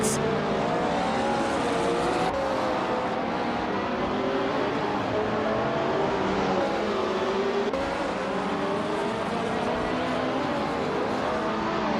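Race car engines from a racing video game, including a vintage Porsche 909 Bergspider, drone steadily with a sustained high-pitched whine and shifting tones, continuous and loud.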